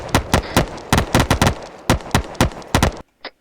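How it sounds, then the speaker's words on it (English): Gunshots in ArmA 3: a string of about fourteen sharp, loud reports in uneven bursts, then a short pause and one fainter shot, with no voices. "Shots from somewhere."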